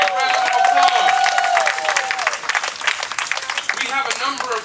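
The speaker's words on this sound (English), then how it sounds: "So give yourselves a great big round of applause." A community event audience applauds at a National Night Out gathering, with loud sustained clapping and some cheering filling the space, and voices rising through the crowd.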